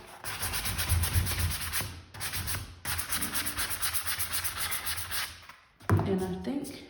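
Wood filler is hand-sanded smooth on a DIY wooden nightstand. The rhythmic, steady scratching strokes are close and continuous, with a brief pause partway through and a faint voice underneath.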